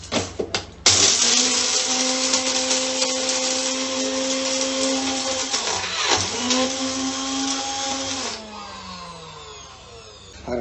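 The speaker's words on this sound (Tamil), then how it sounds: "பாருங்கள், மசாலா அரைச்சிட்டேன்" A kitchen mixer grinder whirs loudly as it grinds biryani masala for a Dindigul Thalappakatti seeraga samba mutton biryani, a steady motor whine with shifting pitch that runs about seven seconds before slowing and winding down.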